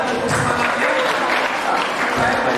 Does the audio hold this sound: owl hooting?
no